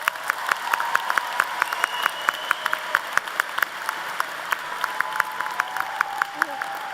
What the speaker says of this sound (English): Please join me in giving our student athletes a round of applause